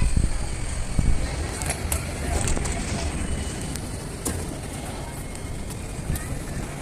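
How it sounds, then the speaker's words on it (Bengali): A low, rumbling tram rolls past on a Zurich street with scattered metallic clicks and clanks, under a wash of street noise and some distant voices. "এই দেখো বলতে বলতে একটা ট্রামও চলে গেল"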